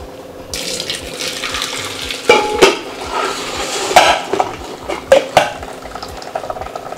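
Pots and ladles clatter in a home kitchen while rice and sambar cook, with a few sharp metallic knocks over a soft bubbling background.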